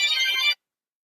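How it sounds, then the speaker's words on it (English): A phone alarm rings with a bright, electronic chiming tone for about half a second, fairly loud and alone, then cuts off abruptly into silence. "That was my alarm."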